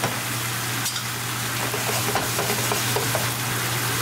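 Mushroom chicken curry with diced tomato is stirred in a pan, giving a steady close hiss with soft scraping over a low constant hum.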